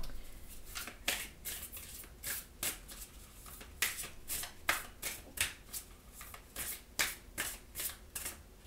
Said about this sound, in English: All right, let's pull you an oracle card.